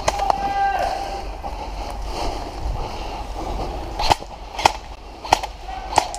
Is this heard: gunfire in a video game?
yes